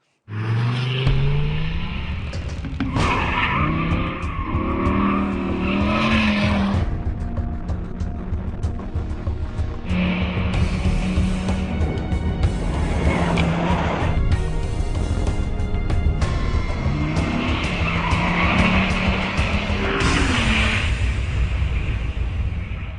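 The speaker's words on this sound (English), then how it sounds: "All right, Randy, you've just driven the most powerful car here, the Dodge Viper ACR, 600 horsepower V10, driving those rear wheels" A Dodge Viper ACR sports car with a 600 horsepower V10 driving the rear wheels laps the Laguna Seca race track, its engine loud and close as it revs hard through repeated acceleration and gear changes for the whole stretch.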